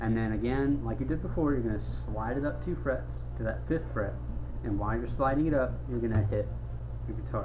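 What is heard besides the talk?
None of the usual background noises is heard.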